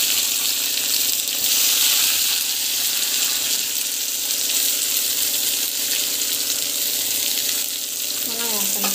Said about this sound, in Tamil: ஸோ வெங்காயம் வந்து ஆட் பண்ணிக்கலாம்.